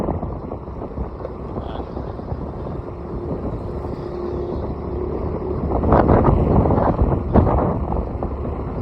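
Steady wind rushes and buffets against the microphone with a low roaring rumble, swelling louder toward the end.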